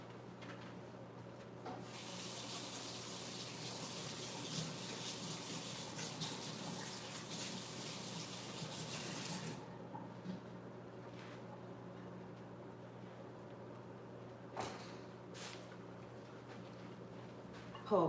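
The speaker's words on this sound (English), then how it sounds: "I'm gonna wash my hands." Running tap water pours steadily while hands are washed in a home kitchen during holiday cooking prep, a soft broad hiss lasting several seconds before cutting off, followed by quieter clinks and handling noises.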